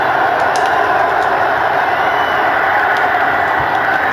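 Stadium crowd in an American football video game, a loud, continuous roar of cheering that holds steady throughout with no pauses.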